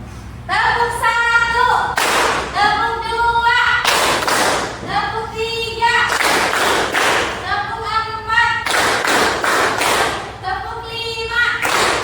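Students in a classroom clap in a counted group exercise: sharp bursts of claps fall in steady groups, alternating with loud chanted voices calling out the counts.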